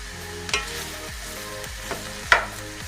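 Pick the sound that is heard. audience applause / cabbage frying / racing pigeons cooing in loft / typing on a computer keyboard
cabbage frying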